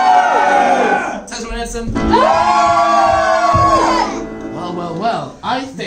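Audience at an improv comedy show cheering and whooping for Tesla and Edison, a loud crowd roar rising and holding for several seconds while a performer's voice carries over it.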